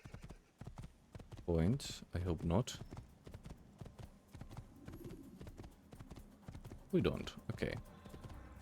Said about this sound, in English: There is a horse. I do think I will take the horse.